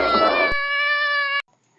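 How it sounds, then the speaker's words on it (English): A cat lets out a loud, drawn-out yowl up close as it attacks, the cry holding steady for over a second before it cuts off abruptly into silence. "The cat is attacking me!"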